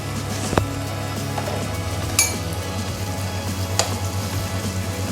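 Ginger garlic paste frying in butter for paneer butter masala, a steady close sizzle with a low hum beneath and a few light metallic clinks of a spoon against the pan, no talking.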